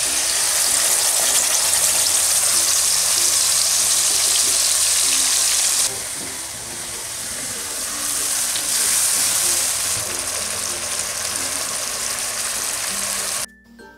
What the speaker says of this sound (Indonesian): Tumis bumbu yang di blender tadi hingga harum.